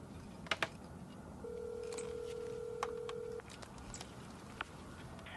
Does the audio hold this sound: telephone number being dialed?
yes